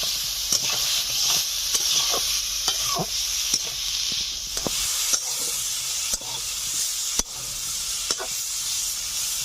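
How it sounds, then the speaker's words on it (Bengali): Potatoes and ground spices frying in a pan for a village-style fish curry with drumsticks, a loud steady sizzle and hiss broken by repeated scraping stirs of a spatula, close and without talk. "4-5 মিনিট একটু ভাজা করে নিয়েছি"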